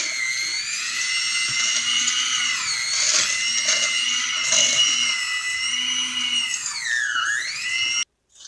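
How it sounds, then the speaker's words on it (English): Close and loud, a stand mixer blends egg nog cheesecake batter with a high, whining motor buzz that dips in pitch briefly near the end before cutting off abruptly. "You stick it back in your mixer thing to blend."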